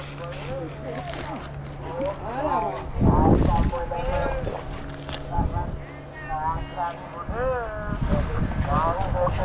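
A boat's engine drones steadily at Kelebang beach in Melaka, low and continuous beneath wind buffeting the microphone and several people chatting nearby, with a louder gust or splash midway.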